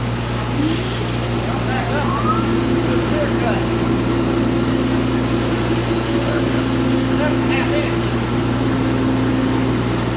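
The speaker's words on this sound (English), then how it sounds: "we'll drop our saw down here till we start to see our laser line." A saw cuts green hemlock siding, a steady continuous engine-like whine and drone running loud and close from start to finish with no breaks.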